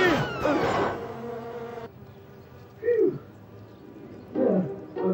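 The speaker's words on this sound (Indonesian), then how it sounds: "Kedengarannya seperti seseorang mengambil sarang lebah marah." Cartoon swarm of angry bees buzzing from a beehive: a dense, harsh drone that swells at the start, then thins into scattered buzzy swoops and tones, with no voices.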